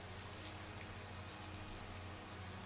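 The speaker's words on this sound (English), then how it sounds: "Ah, it's raining." Steady, faint rain falling in Minecraft, an even hiss of drops that continues without a break.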